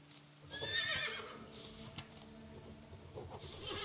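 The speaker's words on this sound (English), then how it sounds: "I'm going to see if I can ride this horse home." A horse in the video game Above Snakes gives a loud whinny near the start, followed by snorts and shuffling hoof sounds over a low background.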